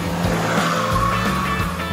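A cheap second-hand car's engine revving hard toward 5000 rpm on a winding mountain drive, a loud, continuous droning roar with steady harmonic tones that rise and shift slightly, heard up close with no talk.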